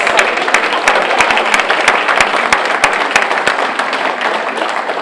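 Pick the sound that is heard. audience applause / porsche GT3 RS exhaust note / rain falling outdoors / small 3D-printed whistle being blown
audience applause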